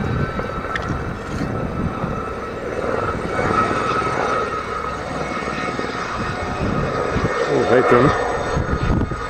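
A helicopter passes over Buckland Newton with a broad, rumbling engine drone that swells as it draws closer, while people talk nearby outdoors.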